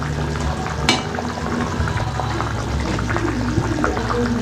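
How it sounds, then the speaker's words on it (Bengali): Katla fish curry with green chillies bubbling in a pan, a steady close simmer with small pops and a brief clatter near the start, continuing evenly without talk. "ভালো করে ফুটিয়ে নেবো"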